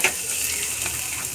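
Chopped capsicum hissing and crackling in a hot pan of chicken patiala, a continuous close sizzle broken by light scraping stir sounds, with no one speaking.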